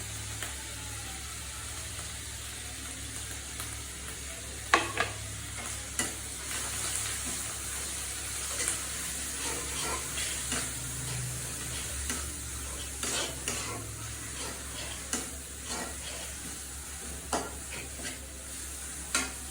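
Garlic paste and green chillies fry steadily in a pan for a prawn and water lily curry, with a continuous sizzle broken by sharp clicks and scrapes of stirring throughout, no voices.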